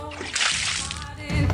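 A short stream of liquid is poured with a brief splashing, sloshing burst, heard under people talking, close and moderately loud.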